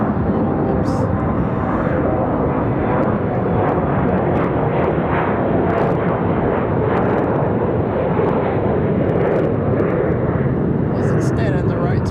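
An airliner departing Raleigh-Durham International Airport, a loud, sustained jet engine roar that fills the whole stretch without letup, with brief voices heard faintly in the background.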